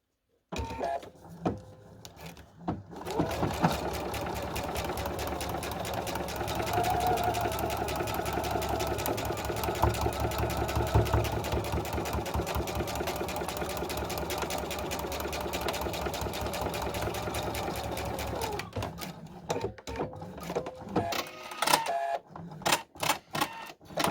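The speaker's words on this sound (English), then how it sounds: "I'm going to take that to my sewing machine and then just sew directly on the line." Sewing machine stitching quilt fabric for a curved geese block, a close, fast, steady mechanical whir with rapid needle clatter running continuously for about fifteen seconds, starting and stopping with brief pauses at each end.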